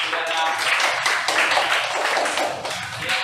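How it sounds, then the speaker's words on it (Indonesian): Classmates applaud a student group in a university teacher-training classroom, a busy, close clatter of clapping hands that stays lively for the whole few seconds. "Tepuk tangan untuk kelompok 3."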